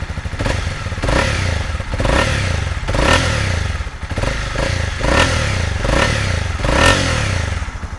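A warm 2020 Honda CB300R motorcycle engine runs with a throaty, loud rumble, revving up and dropping back in repeated bursts, close to the listener and with no voices.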